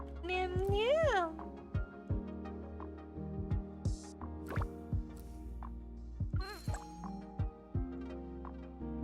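A person imitates a cat, giving a rising-falling meow followed by shorter meow-like calls, with soft plopping clicks scattered between them.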